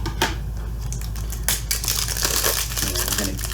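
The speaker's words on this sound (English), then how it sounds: "I'm going to get the plastic off of there" Plastic shrink wrap is torn and slid off a video game case, giving close, loud crinkling and crackling with a few sharp rips amid steady rustling.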